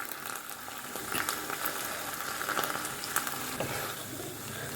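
Minced meat (keema) frying in a pan over a low gas flame for a spiced, biriyani-masala dish, a steady close sizzle with soft bubbling crackle and scattered spatula clicks, no voices.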